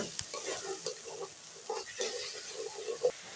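Spices frying in a pan for a vegetarian Bengali bottle gourd (lau ghanta) dish, a soft steady sizzle broken by repeated scraping stirs at an even pace, close and fairly quiet, with no talking.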